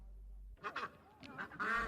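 Geese honk in a short burst of several nasal calls, close and fairly loud, used as a sound effect in a spoken audio story.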